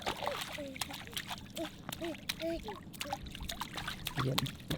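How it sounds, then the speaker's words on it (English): A baby splashes in bath water, with light sloshing and dribbling under cheerful adult talk and playful high vocal sounds. "Splish splash, I was taking a bath."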